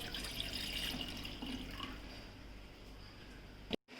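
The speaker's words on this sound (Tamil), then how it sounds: "கொஞ்சம் தண்ணி ஊற்றிக்கலாம்" Water is poured into a small pot on a kitchen stove to boil quail eggs, a steady splashing gush that fades slightly and then stops abruptly with a soft clunk at the end.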